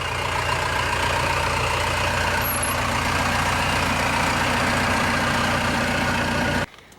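A Ford Bronco with a turbo diesel engine idles close by in a loud, steady, low-pitched rumble for several seconds before the sound cuts off abruptly.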